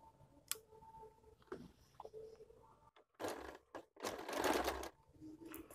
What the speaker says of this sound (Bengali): এভাবে বরাবর মিলিয়ে নেব, প্রায় হাফ ইঞ্চ রেখে আমি সেলাইটা করব